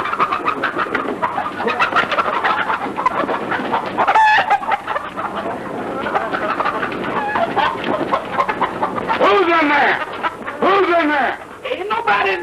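Chickens cluck and a rooster crows repeatedly in a 1942 comedy film scene, loud and close, mixed with people talking throughout.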